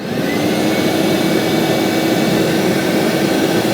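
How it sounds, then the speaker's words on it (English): Ridgid Pro compact shop vacuum running nearby, a loud continuous airy roar with a steady motor hum and no change in pitch throughout. "Here's our Ridgid Pro."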